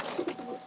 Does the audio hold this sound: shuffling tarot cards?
no